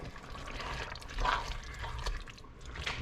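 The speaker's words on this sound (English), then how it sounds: "Make sure you really stir up the tomato paste, as it's a little bit thicker and tends to clump." Tomato paste is stirred into a bolognese sauce in a pot, giving soft wet squelching and spoon scrapes that rise and fall at close range, with no voices.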